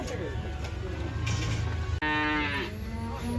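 A cow lets out a long, loud moo close by at a livestock market in Uzynagash, Almaty, its low drawn-out call rising and falling, with faint background noise around it.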